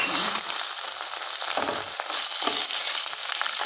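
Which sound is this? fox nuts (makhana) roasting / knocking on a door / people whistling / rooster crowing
fox nuts (makhana) roasting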